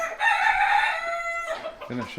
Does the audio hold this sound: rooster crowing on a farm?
yes